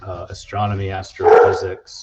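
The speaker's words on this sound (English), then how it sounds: "Sorry about the dogs." Dogs barking and yipping in the background while someone talks in the foreground, the short barks mixed in with his speech and partly masked by it.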